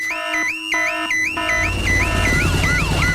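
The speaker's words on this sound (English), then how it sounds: "Daddy Pig has set off the noisy house alarm." A loud electronic alarm cycling through rapid repeating tones, then shifting to a wavering, siren-like wail over a rumbling background.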